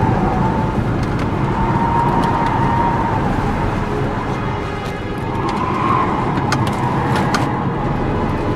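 A car engine runs steadily and loudly throughout, a constant close driving drone with faint higher tonal whines drifting over it.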